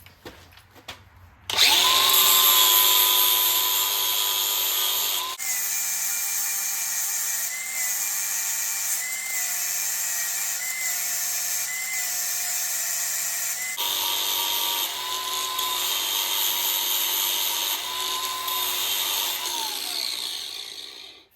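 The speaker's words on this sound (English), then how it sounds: "try to drill it out" Power drill boring out a broken stud flush with the head on a big block 454 engine, a steady close whine that runs continuously for about twenty seconds, with a shift in pitch partway through and no talk over it.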